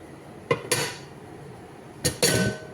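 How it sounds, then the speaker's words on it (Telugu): A metal lid set onto a pot of chicken curry, two separate clanking placements, each a sharp close clatter with a short ringing rattle, over a quiet kitchen background. "ఇప్పుడు మూత పెట్టుకుందాం ఫ్రెండ్స్"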